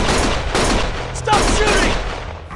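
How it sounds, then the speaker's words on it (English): Gunfire in the video game Lost Judgment: loud, close bursts of rapid shots crackle in overlapping volleys, with a brief lull before the shooting resumes. "Stop shooting!"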